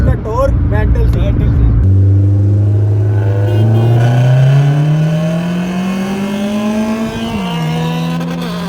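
A Honda K24-engined race car revs hard on a track at night, its loud engine note climbing steadily in pitch over several seconds with a brief dip, close and continuous, with talk underneath.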